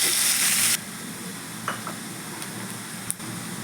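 Chopped onion hitting hot oil left over from frying boal fish, a steady close sizzle with a louder hiss at the start and a few soft clinks of stirring.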